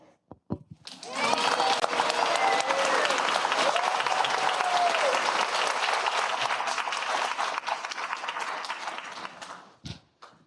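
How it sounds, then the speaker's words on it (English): Sustained applause from an audience at a school board workshop, a dense wash of many hands clapping steadily for several seconds before tapering off, with no talk over it. "Let's give another big round of applause for Liam and Praneet."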